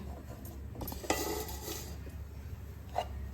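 Lapsi, a traditional Gujarati sweet, stirred in a pot over a low flame, giving soft scraping and a few faint clinks of the spoon against the pot in a quiet kitchen.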